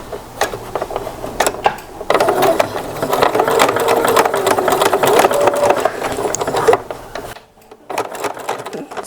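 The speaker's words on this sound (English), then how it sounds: "Put that needle back in the middle, and we'll just stitch." A sewing machine stitches a narrow eighth-inch hem on a 1930s–1940s style infant slip, a rapid mechanical whir with a rattling needle rhythm, close and loud, pausing briefly near the end.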